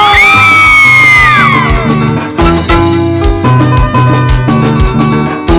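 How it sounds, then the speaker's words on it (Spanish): Women whooping and shrieking over loud huayno dance music at a festive gathering, high excited cries rising above the brass band and a steady drum beat. "¡Un grito, chicas, un grito!"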